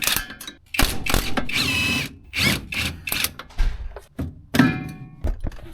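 An impact gun removing tie rod nuts on a car, sounding as several short, loud bursts of rattling whirr close by, separated by clunks and brief pauses.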